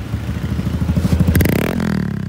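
Honda Beat scooter fitted with an Apido V2 adjustable exhaust set fully open, idling at low RPM with a loud, close, rapid popping putter that rises briefly into a rev.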